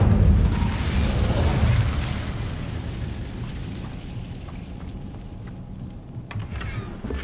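Incendio fire spell cast in Hogwarts Legacy, a loud whooshing burst that swells at once and slowly fades into a lingering rumble, with a few faint clicks near the end.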